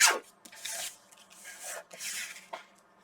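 Close rasping cuts trim a small peach fabric scrap for a quilt block, in a few separate brushing strokes with short quiet gaps between them.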